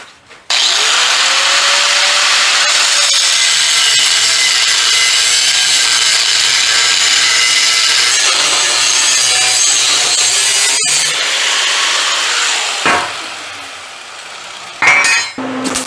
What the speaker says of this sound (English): Let us cut it off.